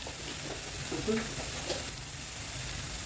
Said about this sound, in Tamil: இது கொஞ்சம் பொன்னிறமாகிற வரைக்கும் வதக்கிக்கோங்க